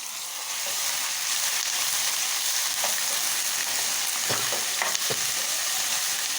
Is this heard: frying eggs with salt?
yes